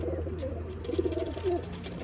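A male pigeon coos in low, rolling bursts, near and clear, with a faint steady hum underneath and no talking.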